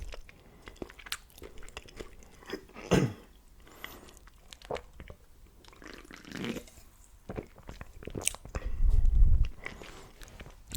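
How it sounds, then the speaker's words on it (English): Crunchy chewing of lettuce close to the mic, with wet bites and crisp crunches scattered irregularly, one heavier thump near the end. "The lettuce is nice and crunchy."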